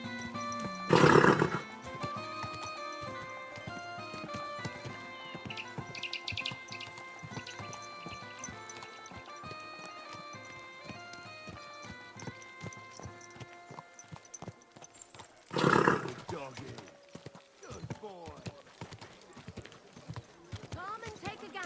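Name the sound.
horse neighing and hooves in the video game Kingdom Come: Deliverance II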